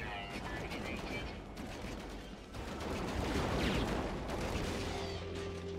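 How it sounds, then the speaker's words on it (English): Rapid weapon fire in the space game No Man's Sky, a dense crackling stream of shots from a ship's guns, fairly faint and continuous, with some tonal hum near the end. "I got some guns working now."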